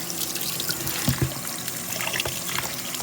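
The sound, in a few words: pouring cool water onto neck bones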